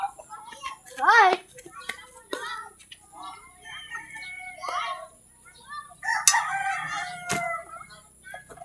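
A rooster crows nearby, rising and wavering, amid scattered people talking and a voice, with a faint steady hum underneath.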